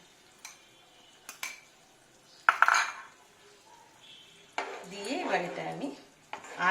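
A utensil scrapes and clinks against a pan as fish curry is stirred, in intermittent bursts of metallic scraping separated by quiet pauses.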